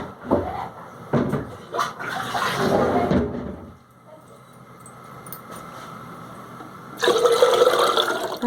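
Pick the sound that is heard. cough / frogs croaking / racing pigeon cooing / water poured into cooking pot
water poured into cooking pot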